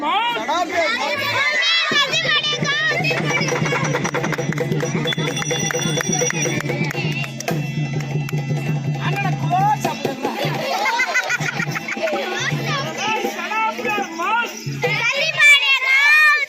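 Noisy children shout and chatter together in a loud, continuous crowd babble, with overlapping excited voices and occasional higher calls throughout.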